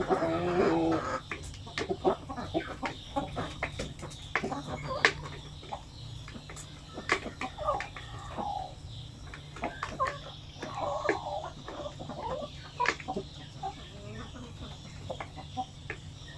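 A flock of large Shamo chickens feeds on a farm, with scattered clucks and soft pecking taps over a steady low background hum; a voice speaks briefly near the start.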